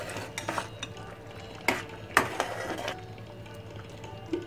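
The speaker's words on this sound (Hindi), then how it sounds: "इसको मिक्स कर लेंगे।" Sweet tamarind-ginger chutney is stirred with a spoon in a pot as spices go in, giving scattered scraping and clinking knocks over a low steady background hum.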